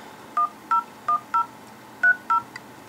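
A Nexus 4 smartphone sounds a series of seven clear, evenly spaced dialing tones while a number is entered, crisp short beeps over a quiet background.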